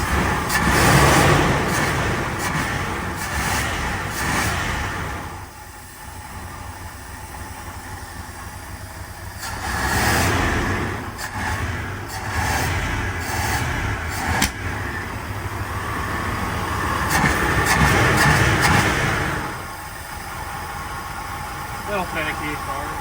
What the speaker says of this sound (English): Idling higher now.